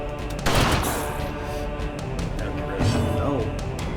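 Guns fire in the game Darkest Dungeon, a loud volley of shots bursting near the start and another burst later, with rumbling combat noise between.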